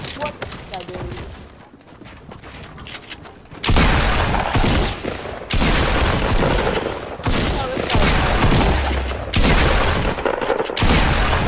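Rapid automatic weapon fire in a video game shooter, dense sustained bursts broken by short pauses, loud and close, with a voice talking over parts of it.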